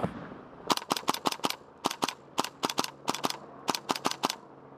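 Airsoft guns fire during a skirmish game: sharp, snappy shots in quick bursts of two to four, repeating across the clip at close range with no talking.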